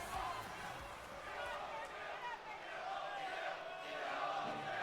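A video-game arena crowd in WWE 2K22, set in Orlando, Florida, cheering as a steady roaring wash of massed voices, broad and continuous with gentle swells and no distinct single voices, heard at a distance.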